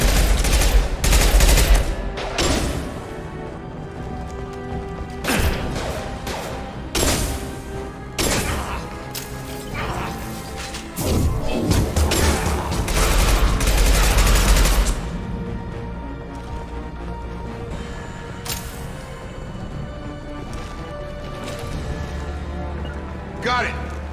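Heavy gunfire in the Mass Effect 2 video game: repeated loud bursts of shots and impacts in clusters, with combat voices calling out between the volleys and a quieter stretch toward the end.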